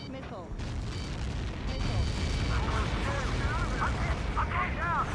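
Rumbling blasts and heavy explosive booms from incoming missiles in a combat video game, dense and loud throughout, with radio voices speaking over the barrage.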